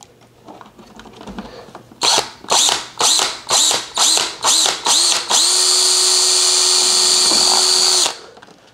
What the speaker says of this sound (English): so I have to drill somewhere like right here